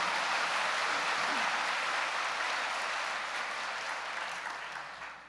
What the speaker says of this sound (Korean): You can applause right there.